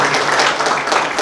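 Audience applause greets an honoured guest at a Holi gathering: a brief, dense burst of many hands clapping at once, close and fairly loud, with faint voices mixed in.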